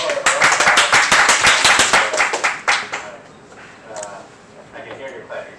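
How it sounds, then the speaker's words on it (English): Audience clapping at a tech conference talk on open-source hardware tools: loud, dense clapping for about three seconds, then fading into scattered claps and faint speech-like murmur. "I can hear you clapping, so I assume you're there"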